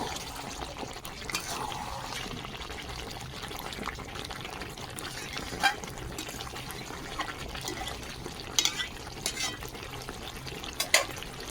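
Cooked spicy chicken kosha is poured from the pan into a dish, making faint, soft wet sliding and sloshing with a few light utensil clinks.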